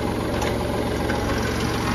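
A tractor engine running in low gear at about 2100 RPM while pulling a manure spreader, a steady loud rumbling drone with a regular low throb and no talk over it.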